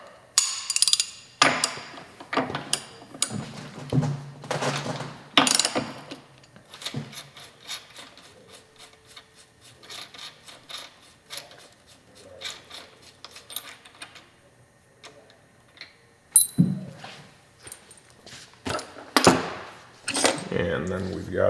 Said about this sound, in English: we can go ahead and loosen up our steering stem nut